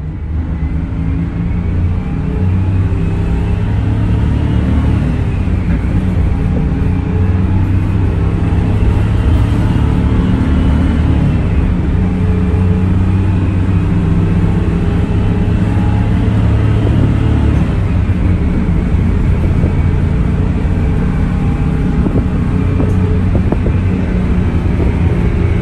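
Truck with a ten-speed transmission, straight pipes and a 6-71 turbo engine, stock otherwise, rumbling loud and steady up close with a deep continuous drone.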